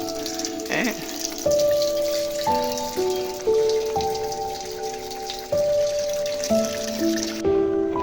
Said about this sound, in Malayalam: ചാച്ചൂട്ടൻ ഒന്നുകൂടിയും കഴുകാണ് പൈപ്പ് പിടിച്ചിട്ട്.